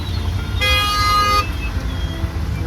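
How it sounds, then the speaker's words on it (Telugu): A car horn sounds one sustained honk lasting under a second in a rainy traffic jam, rising sharply over a constant low rumble of idling vehicles. "Full traffic jam."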